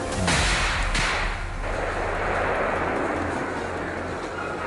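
Gunshots ring out during a wild boar hunt in dense woods: two sharp, booming reports about a second apart, each trailing off into a long echoing rumble.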